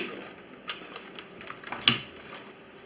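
A Dell computer keyboard with the F12 key tapped rapidly, giving a scatter of faint, quick plastic clicks and one sharper tap near the end, quiet and close with no voices.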